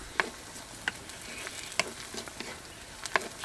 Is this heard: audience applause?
no